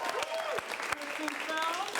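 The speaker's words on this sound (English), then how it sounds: "then hoop and holler and applaud the loudest. So let's start that applause." Audience applause and cheering at a live improv comedy show as the crowd votes for a film, a steady wash of clapping and whoops under a prominent voice, with crowd noise filling the whole stretch.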